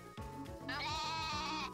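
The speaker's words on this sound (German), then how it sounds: "drinnen sind noch zwei Schafe." A sheep in the farming game Story of Seasons: A Wonderful Life bleats once in a long, wavering cry, close and clear over soft game background music.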